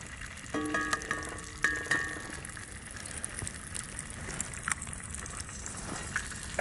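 Eggs sizzle and crackle steadily in a hot cast iron skillet over a camp fire outdoors, with a few sharp clicks and scrapes near the start and a soft, continuous fry beneath.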